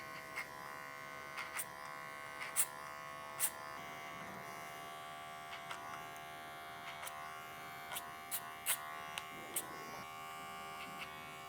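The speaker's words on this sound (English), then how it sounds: "The only way I'm going to take this weight out is by clipper over comb technique." Electric hair clipper buzzing steadily through a clipper-over-comb pass on a classic slickback haircut, a close continuous hum broken by short bright snips and comb contacts, no talking.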